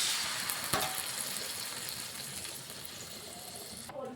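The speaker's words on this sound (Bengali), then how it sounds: "এখানে বাটিতে মশলা দেওয়া জলটা প্রথমে দিয়ে দিলাম।" Spiced water hits hot frying spices in a pan for a Bengali bhudsa jhal, giving a steady broad sizzle that fades slowly over a few seconds and ends with a brief clatter.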